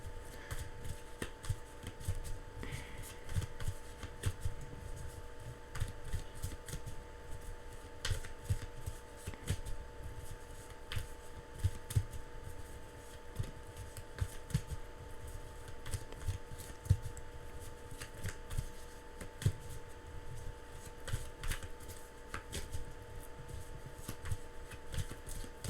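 Tarot cards being shuffled over and over, a steady run of soft riffling and flicking taps that continues for the whole stretch at moderate closeness, with no talking.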